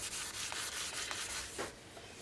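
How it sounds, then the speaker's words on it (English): Close, steady sanding rubbing along the neck of a Les Paul style copy guitar, an even scratchy texture running for a couple of seconds with a few brief stroke accents and no talk. "Just that little bit of sanding."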